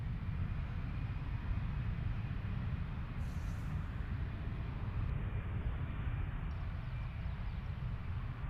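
Steady, broad jet engine roar of an airliner rolling for takeoff at London Gatwick, bound for Bilbao, a continuous distant rumble holding at even loudness throughout with no voices.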